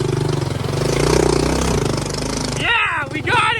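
Yamaha YTM200 three-wheeler engine pulling in second gear on a trail, a loud close throbbing putter that swells, then a person's voice breaks in over it near the end.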